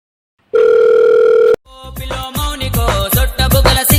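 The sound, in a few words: telephone dial tone while placing a call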